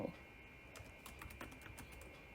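Keys tapped on a computer keyboard while a digital project is set up, a quiet, irregular run of light clicks close by with a steady faint hum beneath and no talking.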